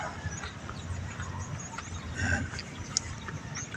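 A chicken clucks softly in short, scattered calls against outdoor background noise, fairly near but not loud.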